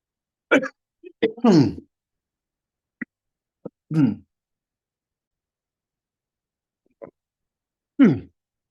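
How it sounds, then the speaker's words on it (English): Several short, sharp coughs and hiccup-like bursts scattered across quiet gaps, close by and irregular in rhythm. "I had a coughing fit then."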